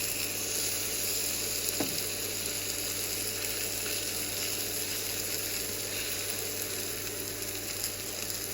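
Steak searing in a pan on an induction cooktop powered through an inverter, a steady close sizzle under a constant electrical hum and high whine, with one brief clink near the start and no talking.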